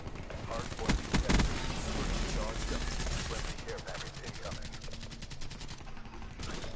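Rapid automatic gunfire in a first-person shooter game rattles in quick bursts up close, with reload clicks and game effects, over a brief spoken voice.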